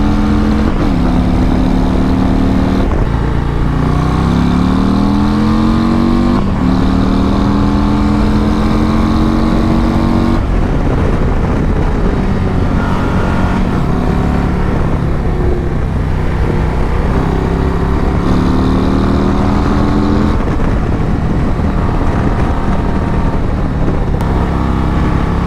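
A Harley-Davidson motorcycle riding through twisty roads strewn with fallen leaves, its engine droning loud and steady with rising and falling pitch as it shifts and accelerates, wind rushing throughout, no talking.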